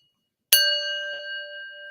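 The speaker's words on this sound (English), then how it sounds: "let me ring that doggone bell" A single bell is struck once, a clear bright ding that rings on and decays slowly.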